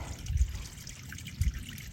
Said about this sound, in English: This is the Gid Spring.